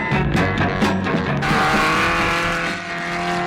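Batmobile engine roaring as the supercharger cuts in, a loud continuous motor drone with a sharp rise in intensity partway through and a steady high whine after, no talking.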